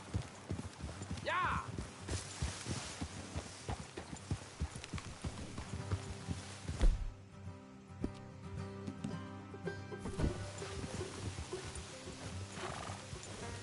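Horse hooves clip-clop in a steady rhythm close by in Red Dead Redemption 2, with a horse neighing and busy game sounds around them.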